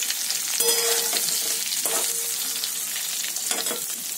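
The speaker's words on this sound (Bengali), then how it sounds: "এবার আমি কেটে রাখা বেগুনগুলো এর মধ্যে দিয়ে দিলাম। তেলের সাথে ভালো করে 2 মিনিট ভেজে নেব।" Sliced eggplant fries in hot oil with a loud, continuous crackling sizzle close by. Occasional stirring clinks sound through it.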